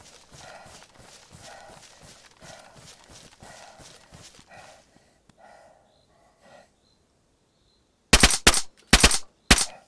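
Gunfire in DayZ on PS5, starting as a run of distant rhythmic shots and ending in three loud, close bursts of rapid automatic fire, with a brief quiet stretch between them.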